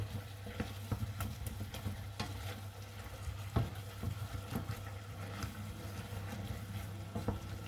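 A utensil scrapes repeatedly across the bottom of a sizzling saucepan, loosening browned bits while deglazing a brown veal stock, irregular scratches over a constant low frying hiss.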